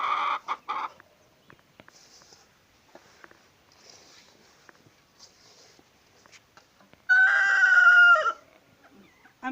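Chickens on a Bengal goat-rearing farm cluck in short bursts, then a rooster gives one loud, clear crow near the end, with quiet stretches between the calls.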